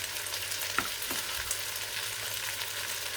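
Stir-fry vegetables fry in a Ninja Foodi with a soft, even sizzle that holds steady throughout, with a couple of faint clicks and no voices.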